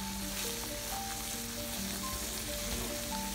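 Chicken pieces for ayam balado fry in hot oil, crackling and sizzling steadily up close, with faint stirring and no talk over it.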